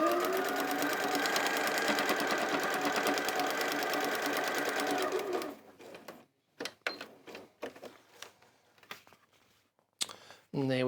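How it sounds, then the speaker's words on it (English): A sewing machine runs in one steady, continuous stitching burst along a marked line for about five seconds, close and loud, then stops, leaving quiet handling noises and a few brief sounds. "Then all I do now is I sew on the 16, 17 line."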